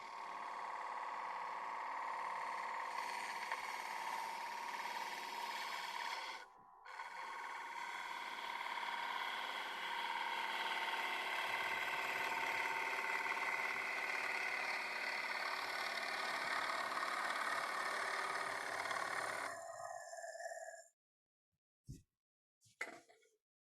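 A wood lathe spins a live-edge bowl blank as a small gouge takes cuts, a steady whirring hum with a brief break partway through, cutting out near the end before a few short knocks.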